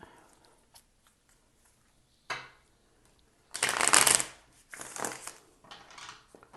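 A deck of tarot cards shuffled up close: a couple of soft riffles, then a loud, dense burst of rapid card flutter lasting under a second, followed by quieter shuffles and card taps.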